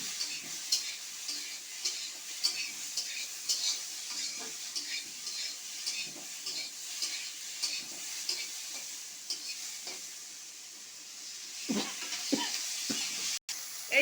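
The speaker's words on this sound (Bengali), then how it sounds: "চিংড়ি মাছটা একটু লাল লাল করে ভেজে নেব" Shrimp coated in turmeric and salt fry in a pan, making a steady, bright hiss with small crackles and occasional faint clicks and stirs throughout.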